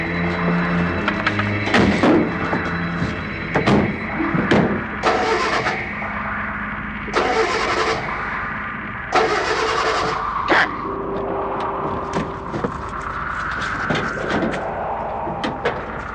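A car is hurriedly started at night amid a panicked escape, with door thunks, repeated cranking bursts of the engine and a tonal hum between attempts, loud and close.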